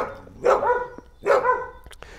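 Two loud dog barks about a second apart, close by in an animal shelter, each with a short harmonic yelp.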